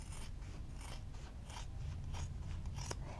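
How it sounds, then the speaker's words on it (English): Scissors cut down the center of pre-cut fabric for a fabric bowl project, giving soft, repeated snipping crunches over a low background hum. The cutting is quiet and close, with no talking. "you're just going to take some scissors and you're just going to eyeball it, and you're going to cut down the center here"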